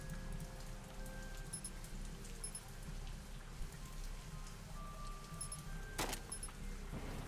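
Steady rain patters continuously over a low rumble in the video game Zafehouse Diaries, with faint chiming tones and a sharp knock near the end.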